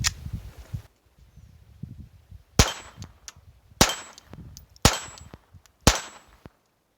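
A suppressed Glock 44 fires .22 LR rounds, 45-grain ammunition, as five sharp metallic cracks spaced about a second apart, with faint clinks and rustling in between.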